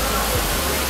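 An indoor waterfall at Dubai Mall gives a brief, steady wash of splashing water heard close up, broad and hissy, with no distinct pauses.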